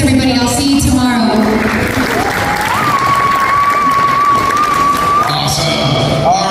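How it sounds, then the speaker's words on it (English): Applause and some cheering from diners at a VIP dinner for the Great Florida Bigfoot Conference, sustained and fairly loud, with voices and a shrill whistle-like tone riding over the crowd noise. "I want to make sure we all give a big round of applause for him putting this all together."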